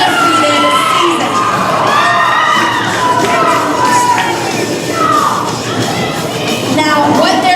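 At a roller derby bout in the final power jam of an undefeated season, the crowd screams, cheers and yells continuously and loudly, a dense wall of shrill voices and children's shouts that never lets up.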